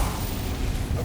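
An Incendio fire spell cast in the video game Hogwarts Legacy, heard as a brief, loud, steady burst of rushing, roaring noise that lasts about a second.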